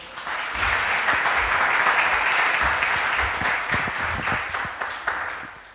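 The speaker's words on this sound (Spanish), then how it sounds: "Gracias, un aplauso" A seated audience at a hypnosis lecture claps together in steady, even applause that fills the room for several seconds and then tapers off slightly toward the end.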